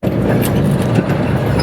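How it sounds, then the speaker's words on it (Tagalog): A motorcycle engine runs steadily and loudly, a dense low rumble filling the short clip with no break and no voices. "Relax. Bagyan ka ng motor."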